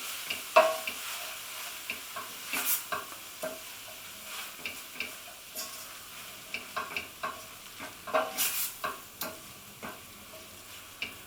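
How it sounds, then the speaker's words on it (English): Soya mince frying in a pan with spices, stirred steadily: a soft sizzle runs underneath while a spoon scrapes and taps the pan in an irregular rhythm, close and fairly quiet, with no voices. "I just really want to coat the mince in all of those spices."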